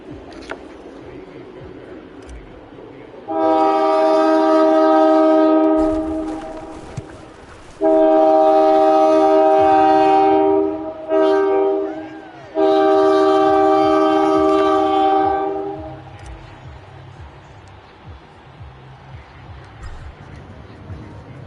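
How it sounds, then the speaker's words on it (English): A passing train sounds its horn in three long, loud blasts separated by short gaps, over a low rumble of rail traffic that lingers after the final blast. "Had to mute it so you guys didn't hear the train horn."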